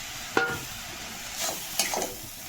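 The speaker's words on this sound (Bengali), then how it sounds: "শাকটা যখন এরকম ভাজা ভাজা হয়ে যাবে" Leafy greens fry in a pan while being stirred, a soft steady sizzle broken by a few sharp scrapes and clinks of the spatula against the pan.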